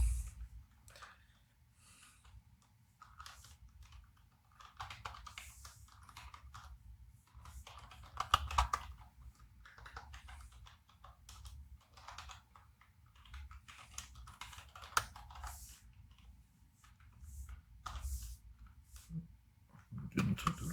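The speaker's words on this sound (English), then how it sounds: "Right, let's type it out." Code is typed on a computer keyboard in irregular bursts of soft, close key clicks, quiet and unaccompanied by talk.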